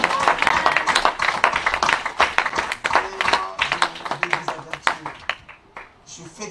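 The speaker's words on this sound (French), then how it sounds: "We applaudisseren de Heer" A church congregation claps along in lively rhythmic applause during worship, dense repeated hand claps with voices singing and calling underneath, fading toward the end.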